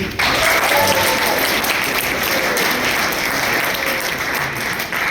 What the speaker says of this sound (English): Can we get a round of applause for the boys really quick?